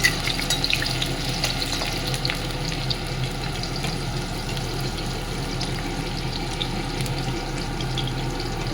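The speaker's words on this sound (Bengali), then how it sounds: "তা পেঁয়াজটা আমি আগে দিয়ে দেবো কড়ার মধ্যে। পেঁয়াজটা একটু নেড়ে চেড়ে" Onion frying in oil in a wok as it is stirred: a soft, steady hiss with scraping and stirring noises, fairly quiet, no talking.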